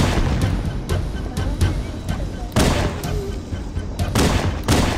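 Pistol shots in Halo Combat Evolved, a string of sharp, loud cracks fired at an uneven pace, some singly and some in quick pairs, over a low steady background hum.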